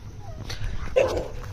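Dogs bark excitedly at other dogs nearby, a couple of short, yipping barks and a whine heard close over low outdoor background noise.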